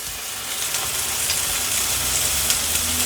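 Chicken pieces for blackened chicken fettuccine sear in a smoking hot pan, giving a steady, loud sizzle and crackle throughout with no voices.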